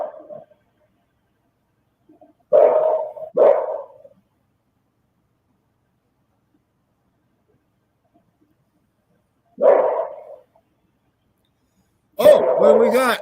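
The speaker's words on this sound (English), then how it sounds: "Still barking." A dog barks in a few separate bursts, two close together, then a lone bark and a final louder burst, with long quiet gaps between them.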